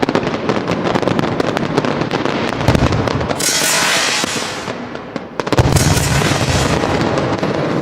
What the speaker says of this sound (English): Noise is a really important part of a fire display